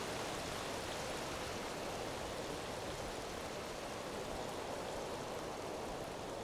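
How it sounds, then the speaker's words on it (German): Steady, dense rain hiss in the video game Enderal, a loud broadband wash of falling rain with no breaks or other sounds over its full length. "Was ist das Regengeräusch so laut?"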